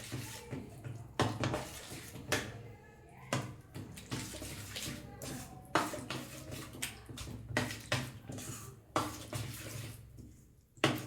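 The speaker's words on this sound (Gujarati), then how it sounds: "મસાલો એડ કરી અને બરાબર મિક્સ કરી લેશું" Rava appam batter being stirred with spices in a bowl, a spoon scraping and clinking against the sides in a steady run of wet mixing strokes, close and moderately loud.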